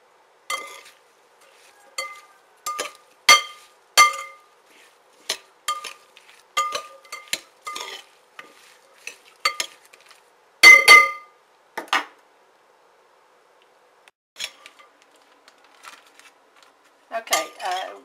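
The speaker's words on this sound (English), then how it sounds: "stir them up, and put them in the freezer." Sugared strawberries being stirred in a bowl, with irregular bursts of clinking and scraping from a utensil against the dish, separated by short quiet pauses.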